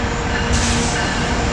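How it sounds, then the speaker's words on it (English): A westbound train rushes through a station in Riverside, Illinois without stopping, a loud, steady rumbling roar with a faint whine, close by and unbroken throughout with no talk. "Westbound train approaching your station will not stop."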